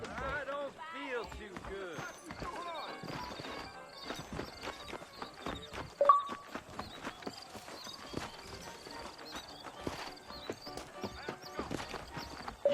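Horse hooves clip-clop in a quick, uneven rhythm over a hard surface in Red Dead Redemption, mixed with whinnies and a voice talking throughout.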